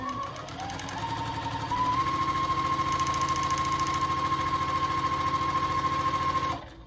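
A sewing machine stitches a circle on fabric for a sourdough bread basket liner, its motor whirring up to a steady fast chatter of needle strokes for several seconds, then stopping abruptly.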